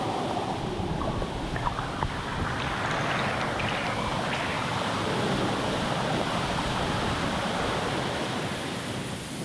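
Proxy Falls, fed by Proxy Creek off a cliff, pours heavily in winter with snowmelt and rain runoff, a broad steady roar of falling water that holds constant throughout.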